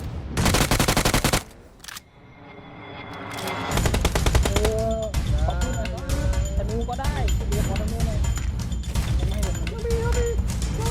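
Rapid automatic gunfire bursts in the mobile battle royale game PUBG Mobile, loud and close, with a short pause before the shooting resumes in dense volleys while a voice talks over it.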